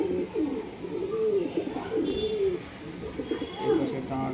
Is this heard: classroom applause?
no